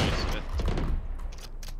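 Gunfire in the Valorant shooter game, a quick burst of shots up front that then thins into scattered clicks and thuds, heard under players talking over voice chat.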